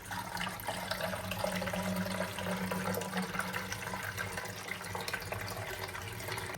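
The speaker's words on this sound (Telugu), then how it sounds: "ఇలా ఓపెన్ చేసి మనం జస్ట్ దీంట్లో వాటర్ ఫిల్ చేసేసుకుంటాం" Tap water pours steadily into the water tank of a household cleaning machine, a continuous close rushing splash with no pauses, heard on its own.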